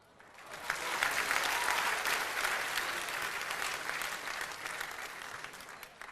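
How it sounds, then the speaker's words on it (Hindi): An audience at a poetry gathering applauds in honor of poet Bashir Badr, steady clapping from many hands that swells quickly and then holds, moderately distant and continuous throughout. "डॉक्टर बशीर बद्र के सम्मान में तालियां बजनी चाहिए"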